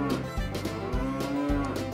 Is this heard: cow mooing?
yes